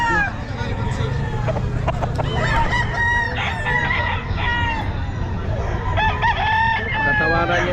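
Roosters crow loudly and repeatedly close by at a pet market, with hens clucking and a murmur of voices in the background.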